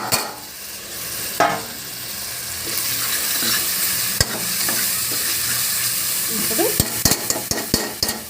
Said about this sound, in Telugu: ఇదిగోండి, ఒక 2 టమాటాలు వేస్తున్నాను